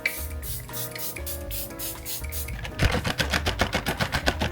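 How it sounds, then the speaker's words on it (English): Say setting spray mists onto a face as a rapid series of short, sharp pumped hisses, close and rhythmic, following a stretch of soft background music. "So this is when I go in with a layer of setting spray."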